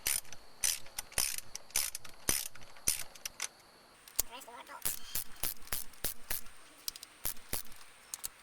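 A ratchet wrench loosens 10mm bolts on the timing belt cover of a 7th-generation Honda Civic, giving quick, close bursts of metallic clicks that start and stop repeatedly with brief pauses between runs.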